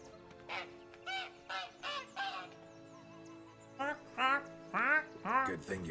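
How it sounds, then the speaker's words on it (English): A goose honks repeatedly in The Witcher 3, a cluster of four nasal calls followed by a pause and then three or four louder, closer honks, with a steady low game ambience humming beneath. "Hello, Miss Goose."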